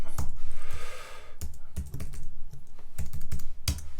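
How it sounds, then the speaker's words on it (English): Rapid, close typing on a laptop keyboard, with sharper, louder key strikes like the return key standing out at intervals in a steady clatter. "hitting a return on my keyboard"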